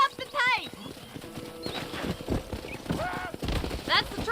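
Horse hooves clip-clop in the western video game Red Dead Redemption, a steady trotting rhythm with a short whinny, mixed with game music and a voice talking over it.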